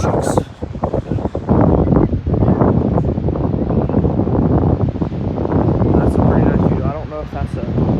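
Strong wind at a beach buffets the microphone in a constant rumbling roar, with a person talking intermittently underneath.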